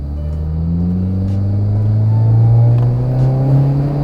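A Honda Jazz with a full Mugen build accelerates, its engine note climbing as a steady, close, rumbling tone over a few seconds, with no voices.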